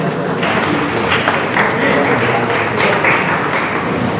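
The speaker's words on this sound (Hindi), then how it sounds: "ज़ोरदार तालियां होनी चाहिए।" Loud, sustained applause from an audience at a book launch ceremony, many hands clapping in a steady dense patter with a few sharper claps standing out, continuous throughout.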